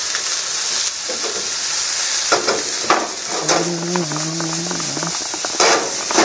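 Butter and brown sugar bubble and sizzle in a pan as they cook down into caramel, a steady close frying hiss with occasional clinks and stirring scrapes.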